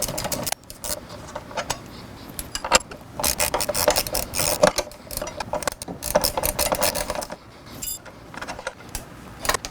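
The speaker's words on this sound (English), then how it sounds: "I did bring my 13mm with me, and I'm going to undo these on both sides" 13mm wrench ratcheting loose sway bar linkage bolts on a Can-Am Spyder RT, close, rapid clicking ratchet strokes in uneven bursts with metallic clanks between.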